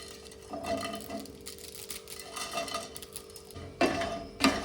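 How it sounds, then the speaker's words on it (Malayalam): Crushed Yippee noodles roasting in oil in a pan, with a steady low sizzle under scraping and clinking of a utensil against the pan, and a couple of louder clanks near the end. "നൂഡിൽസ് ഇടുമ്പോൾ നല്ലോണം ക്രഷ് ചെയ്തിട്ടാണ് ഇടുന്നത്. ജസ്റ്റ് ഒന്ന് റോസ്റ്റ് ചെയ്തെടുക്കുന്നുണ്ട് ഞാനിത്."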